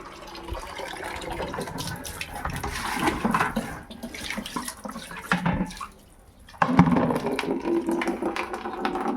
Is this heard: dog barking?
no